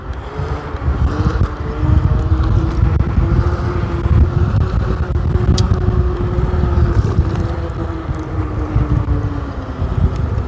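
A Kukirin M5 Pro electric scooter rides through a park, giving a steady rising-and-falling motor whine over loud rumbling wind and tire noise, continuous and close, with no talking.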